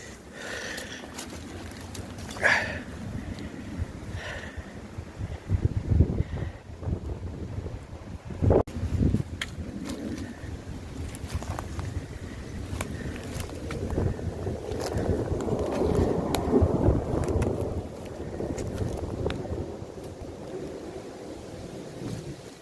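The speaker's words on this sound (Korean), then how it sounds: "바람이 많이 부네요" Strong wind blows on a mountain, buffeting the microphone in uneven gusts and rumbling low and loud with irregular bursts throughout.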